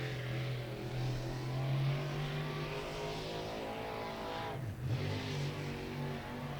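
Race car on a qualifying lap at Beckley Motor Speedway, its engine droning steadily at high revs with a brief dip and recovery partway through, loud and sustained without talk.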